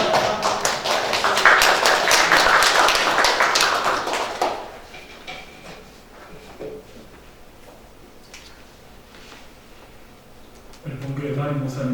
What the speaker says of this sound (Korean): 뜨거운 박수로 목사님 모시도록 하겠습니다